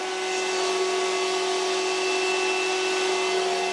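Spray gun laying a slightly thicker coat of paint onto uPVC with the needle opened a little further, a steady loud hiss with a sustained tonal whine running unbroken and close throughout, with no talking.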